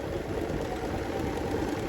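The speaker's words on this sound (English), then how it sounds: "Also realize my sewing machine's pretty loud" A home sewing machine runs steadily and fairly loudly, a continuous mechanical whir with a fine rapid rattle and no talking.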